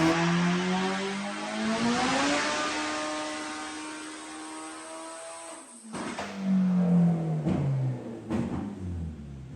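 A turbocharged billet block race engine on a dyno revs up in a long rising pull that peaks near 9,800 rpm, then drops to a sudden cut and crackles, loud and close, with no talk.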